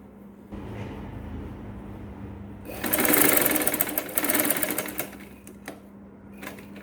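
A sewing machine stitches around the fabric of a saree jacket, its whirring run building to a loud burst in the middle and trailing off into softer, intermittent stitching over a steady low hum.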